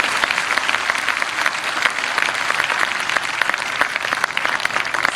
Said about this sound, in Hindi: मैं चाहता हूं एक बार पूरा सदन जोरदार तालियां अतिरिक्त आशीर्वाद दे